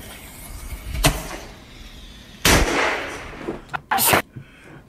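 Fourth of July fireworks go off as sharp, loud booms: one blast, then a longer rumbling burst, then a quick double crack, with no talking.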